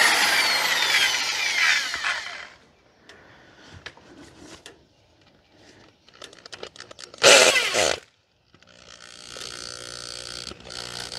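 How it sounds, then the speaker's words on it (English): A power drill grinds and whirs in bursts, churning deep holes in garden soil with rough scraping and pauses between runs, close by. "drill a nice deep hole for the zucchinis and the tomatoes"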